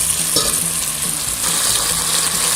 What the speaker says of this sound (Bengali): তো ভিউয়ার্স, আপনারা দেখতেই পাচ্ছেন আমার চিকেন আর মাশরুমটা অলমোস্ট ভাজা ভাজা হয়ে এসেছে